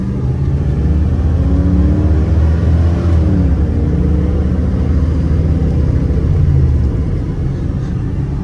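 A 1986 Oldsmobile Cutlass 442 engine accelerates on the road, a loud, steady, close rumble whose pitch climbs through the run with no talk over it.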